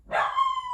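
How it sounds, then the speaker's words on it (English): One short, sharp dog bark sounds up close, ending in a slightly whiny, drawn-out tail. "That's my dog getting wild."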